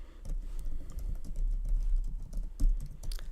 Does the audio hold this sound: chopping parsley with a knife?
no